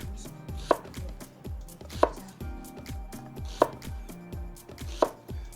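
Knife chopping onions on a cutting board for beef cheek barbacoa, a steady run of crisp close thuds about four per second with a few sharper knocks, no talking.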